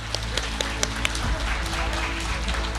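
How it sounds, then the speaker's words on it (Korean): Applause from a ceremony audience at a launch event, brief scattered claps at first, then a steady wash of clapping that stays moderately loud and fairly close for the rest. "박수!"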